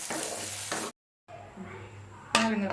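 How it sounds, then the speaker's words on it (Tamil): Prawns for a prawn pickle fry in a pan with a close, steady sizzle and some stirring, broken by a brief silent gap, while a voice talks partly over it. "நெக்ஸ்ட்டு நம்ம நல்லா அது ஃப்ரை பண்ணிடலாம்."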